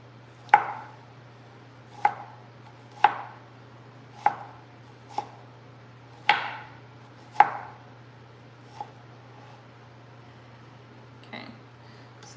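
Knife slicing fresh strawberries into thin slices on a cutting board: about nine crisp, separate cuts at an uneven, unhurried pace, close and clear, then fading to quieter taps near the end.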